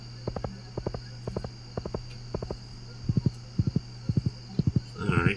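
Horse hooves clip-clop in quick groups of three and four strikes over a steady low hum from the farming video game Stardew Valley, crisp and regular, with a brief rustling burst at the end.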